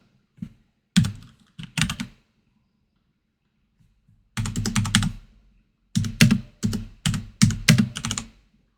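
Computer keyboard being typed on to enter a name and date in a CAD drawing, with short clusters of close, crisp keystrokes separated by pauses and no talking.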